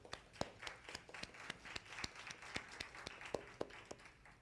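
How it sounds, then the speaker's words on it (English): Audience at a dementia health talk clapping in a light, scattered way, with distinct individual claps in a steady patter over a soft room hum. No voices. "Can we give them a huge round of applause?"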